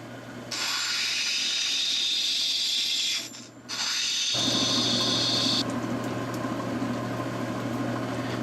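A lapidary grinder cuts a bevel on Brazilian rainbow agate for a marble, a loud steady high whine and hiss that briefly dips, then drops to a lower grinding roar, close and continuous.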